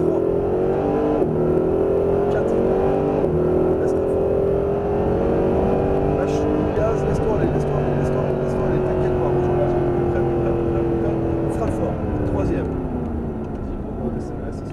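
A Mercedes SLS AMG engine revs and accelerates steadily on a racing circuit with a rising, sustained drone, close by, while someone talks over it throughout.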